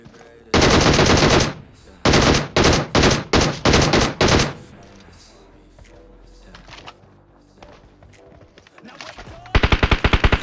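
Rapid bursts of gunfire from a mobile battle-royale shooter played on an iPad mini 5, several loud close volleys in quick succession, then a quieter stretch with faint game sounds before another burst at the end.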